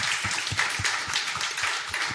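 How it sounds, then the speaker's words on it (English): Audience applause closing a community session on embodying climate change, a moderate, steady patter of many hands clapping with no talk over it. "Big round of applause."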